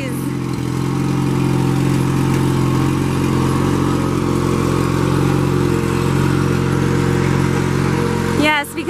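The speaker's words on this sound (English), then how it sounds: "firing up our watering rig" Small engine on a plant nursery's watering rig starting up and running, a steady loud mid-pitched drone that holds throughout and cuts off near the end.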